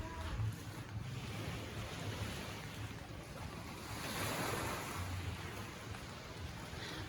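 Waves wash onto the beach at Alona Beach, a faint, steady surf rush with wind buffeting the microphone and no voices.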